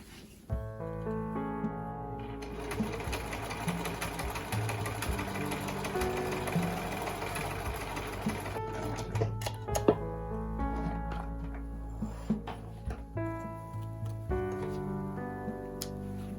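A sewing machine stitches recycled kimono fabric along a top's neck opening, running in steady rapid bursts with brief pauses and restarts, moderately quiet and close, with no talking.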